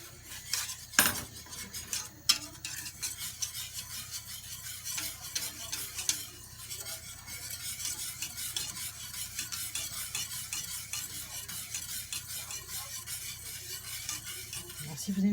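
Milk for crème pâtissière is stirred with a whisk in a pan, a continuous scraping, swishing rhythm with light metallic clicks, close and steady, with a sharp knock near the start and no talking.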